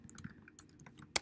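Quiet, uneven keystrokes on a computer keyboard while code is typed, a quick irregular patter of light clicks ending in one sharper key press.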